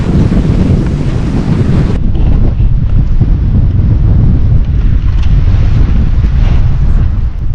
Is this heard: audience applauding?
no